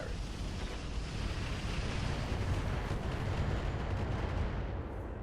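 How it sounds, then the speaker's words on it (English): A defense turret with dual ballistic weapons firing in RogueTech, a dense continuous roar of rapid impacts and booming rumble, steady and unbroken for several seconds with no talking. "I'm thinking maybe we go for this defense turret. It's dual ballistic weaponry."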